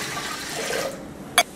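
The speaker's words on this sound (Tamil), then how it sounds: "4 கப் தண்ணி சேர்த்துக்கலாம்" Water is poured into a pressure cooker while making sweet pongal, a short splashing gush that fades after about a second, followed by a brief sharp clink.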